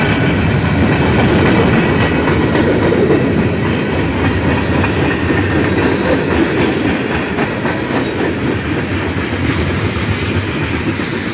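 Freight cars of Canadian National 8866 keep rumbling past nearby in Effingham, Illinois, a continuous heavy roar with repeating clickety-clack from the wheels and occasional high metallic squeals.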